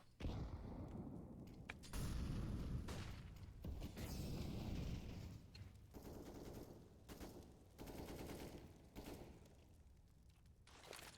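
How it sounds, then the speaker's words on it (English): Video game gunfire spam, rapid bursts of automatic shots and booms coming in repeated volleys with short gaps, fairly loud and continuous, no talk. "He's just spammed like 30 bullets"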